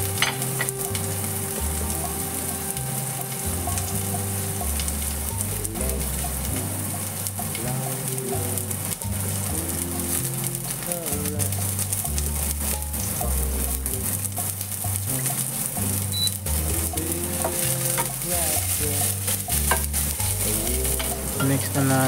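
Onion sautés in a pan while pad krapao is being cooked. A dense, continuous sizzle and crackle runs throughout, with stirring scrapes, and rhythmic music plays underneath.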